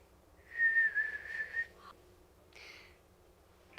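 A child whistles in imitation of a cardinal, holding one long steady note, then a short lower chirp and a brief higher burst, faint against a quiet room with no talk.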